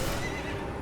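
A horse in the video game Elden Ring gives a short, loud neigh, a brief whinny with hoof clatter and no speech.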